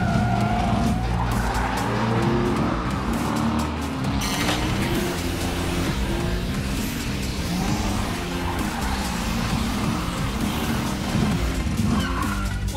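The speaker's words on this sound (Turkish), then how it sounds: "Pedalı kökleyip çılgınca araba mı süreceğiz?" An animated toy race car is driven wildly with tires squealing and skidding, while a loud engine roars in a continuous frantic burst of motion.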